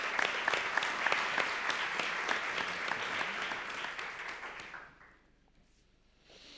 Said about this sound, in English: So a big round of applause for Joan Roca.